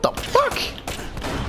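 Gunfire in the video game Uncharted: Drake's Fortune comes as a couple of sharp, hard shots mixed with game noise, and a voice talks briefly over them.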